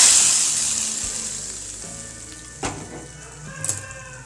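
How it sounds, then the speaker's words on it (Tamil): Oil sizzles steadily in a hot pan with a couple of sharp crackles as mustard seeds and curry leaves are tempered for sambar, no voices present. "சாம்பாரை தாளிக்கலாம் கடுகு கருவேப்பிலை போட்டு"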